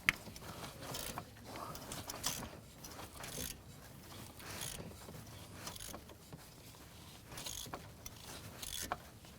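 Wrench or ratchet working exhaust manifold bolts loose on a 1993-1997 Ford Ranger, faint close clicks and metallic clatter in irregular bursts with scraping and quiet shuffling between them.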